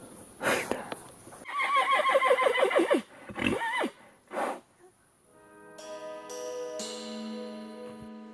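A horse neighs and whinnies loudly in a long wavering call, with shorter snorts and neighs around it, close to the listener; a voice speaks and tonal sounds follow near the end.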